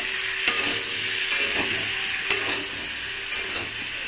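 Soybean chunks and chopped tomato fry in a pan while a spatula stirs them, steady sizzle underneath with a few sharp scrapes and clacks against the metal, close and fairly loud, no talking.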